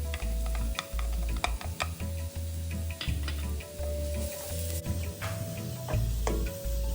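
Shallot slices and minced garlic stir-fried over medium heat in a pan, a steady soft sizzle broken by sharp clicks and scrapes of the spatula against the metal, heard close with no talking.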